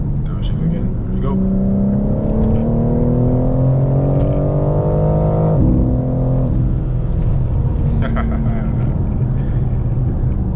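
A 600hp BMW M4 Competition pulls hard, its engine note climbing steadily through the revs before sharp downshifts break the tone, then rising again; loud, close and continuous throughout.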